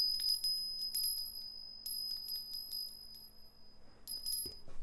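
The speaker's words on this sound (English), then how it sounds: "Let's ring this little bell." A small handheld bell rings in several quick bright bursts, then a pause and a final jingle, close and clear in a quiet room with no speech.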